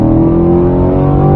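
A 2021 Chevrolet C8 Corvette's mid-mounted V8 revs hard in third gear after a quick downshift, a loud, close, sustained engine roar with no talking.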